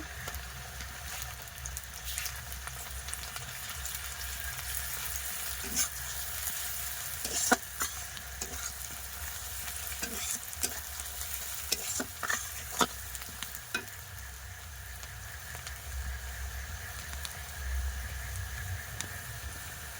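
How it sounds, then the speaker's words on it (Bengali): Garlic is dropped into a pan of browned fried onion and sizzles steadily, with frequent sharp spatula scrapes and stirring clicks over the constant hiss, and no talking. "রসুন ফেলে দিব"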